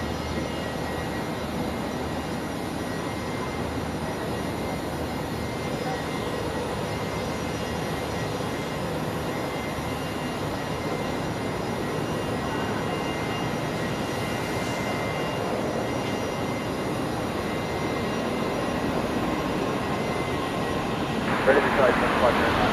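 A steady, broad airplane roar builds gradually at Brisbane Airport as a flight lands on runway 01 left, a continuous engine drone with a sharper burst near the end, with radio voices of air traffic control heard over it.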